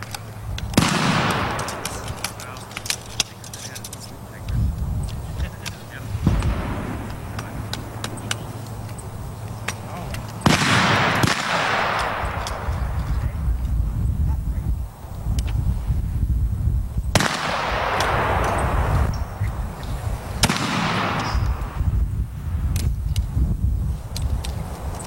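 Gunfire rings out at a shooting competition, with about half a dozen sharp, loud reports spaced several seconds apart, each trailing off in an echo over a steady outdoor background.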